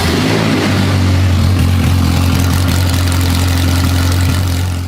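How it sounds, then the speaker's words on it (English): A Ferrari F430 V8, crash-damaged and under restoration, running with no exhaust fitted: a loud, steady, raw engine roar with a deep low rumble that holds throughout, unbroken and close. "On the good side, the Ferrari starts up and runs first time. The thing is, it is so loud with no exhaust."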